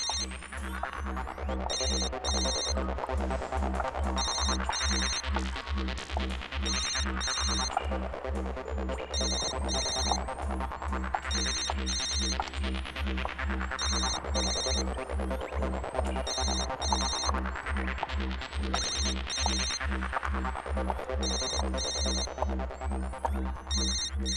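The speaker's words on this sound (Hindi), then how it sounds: "फोन तो यहीं कहीं बज रहा है" A mobile phone ringtone repeats its electronic melody in regular cycles over a pulsing low throb. It stays loud and steady throughout with no talking, set in a horror drama scene.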